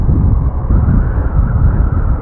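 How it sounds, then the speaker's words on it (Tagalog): Strong wind buffets the microphone near a highway construction site in Sariaya, Quezon, producing a loud, continuous low rumble and roar that gusts unevenly throughout, with no voices. "lakas ng hangin"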